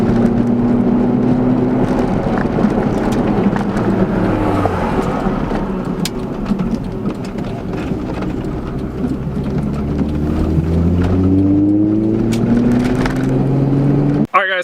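A car with Raceland coilovers drives over a choppy, rough road, its engine droning steadily with shifting pitch and road rumble underneath, while a voice talks over the noise.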